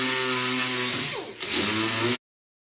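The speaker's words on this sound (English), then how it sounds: "I got to sand all of this down now using 150 grit" A power sander works over a rust repair on a car body near the front windshield, using 150 grit paper. It gives a loud, steady, close whine with harmonic tones that dips briefly, then stops abruptly.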